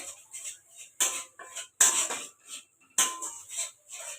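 Chaat masala being stirred into an egg masala in a pan, with sharp, close metal spoon-on-pan clinks and scrapes in irregular bursts separated by brief quiet gaps.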